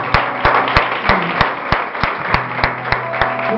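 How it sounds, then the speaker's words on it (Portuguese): Church congregation clapping in a steady, rhythmic beat, sharp regular claps about three per second, loud and close, over a sustained background of music or hum. "Você com palmas."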